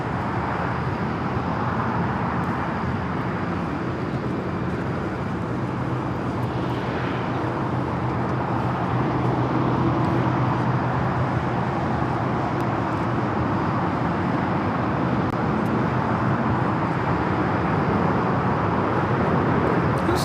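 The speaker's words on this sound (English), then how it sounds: "This is Air Tahiti Nui, Flight 7, coming in from Paris on the 787-9 Dreamliner." Air Tahiti Nui Boeing 787-9 Dreamliner landing at LAX, a steady broad jet roar heard from outside, holding at a constant level with a faint rise and fall as the aircraft passes.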